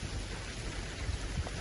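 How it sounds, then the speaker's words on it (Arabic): Steady rain hissing down during a tornado in Sakaka, northern Saudi Arabia, a faint, even wash of falling water with a low rumble beneath and no voices. "المطر بدا يزيد الان ويقترب لنا"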